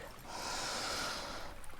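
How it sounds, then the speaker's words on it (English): A single long, audible breath drawn in and let out during a yoga flow class, soft and airy, close but quiet, with no words spoken. "Breathing here."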